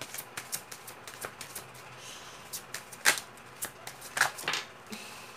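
Tarot cards handled and drawn from a deck during a reading: a run of soft, crisp shuffling and sliding snaps, a few sharper flicks standing out, close and fairly quiet with no talking.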